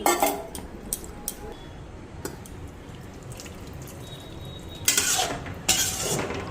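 A lid clanks onto a cooking pot in a home kitchen where rohu fish curry with mustard-poppy paste simmers, with two clear metallic knocks late in the clip after quieter drips and clinks.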